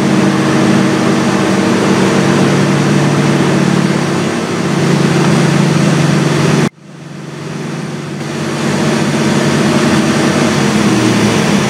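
A 1982 Chevrolet Corvette V8 with heavy engine sludge runs steadily at about 2,000 RPM, a loud, even mechanical drone that briefly cuts out and then swells back to full strength.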